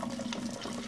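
Boiling water from a kettle is poured through a syringe into a sink, making a steady close splashing rush of water with no voices.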